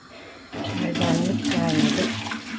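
Water is poured out of a teapot, a close burbling splash and gush that starts abruptly and runs for a couple of seconds.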